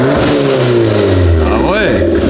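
A car engine that has just been brought back to life revs up and falls back under the throttle, now on regular petrol instead of ethanol. The loud, close engine note rises and drops in one swell.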